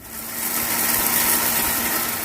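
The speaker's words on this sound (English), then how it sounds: "now we'll go grind this to a fine powder" Roasted sambar spices are ground to a fine powder in a kitchen grinder, a short, loud, steady motor whir that swells and holds with no talk.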